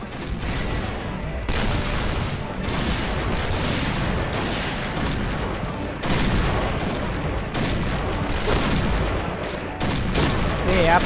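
Barrett sniper rifle fire in the online shooter Point Blank, heard as dense, continuous battle gunfire with repeated bursts and booms running loud throughout, with no clear talk.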